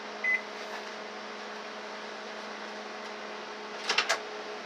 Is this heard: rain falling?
no